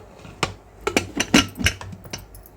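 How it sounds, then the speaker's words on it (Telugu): A pressure cooker lid is fitted onto the pot with a run of close metallic clanks and clicks, about eight sharp hits spread over a couple of seconds. "ప్రెషర్ కుక్కర్కి మూత అనేది పెట్టుకుందాము"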